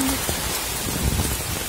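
Heavy rain pours onto a street in a Mumbai neighbourhood, a steady dense hiss with scattered drop impacts and no voices, loud and continuous throughout.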